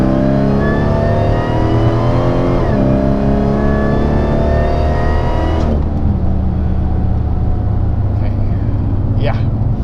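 Dodge Challenger SRT8 accelerating hard after a downshift, a loud, close engine roar climbing steadily in pitch, breaking off near six seconds into rough rumbling with wind noise and faint talk.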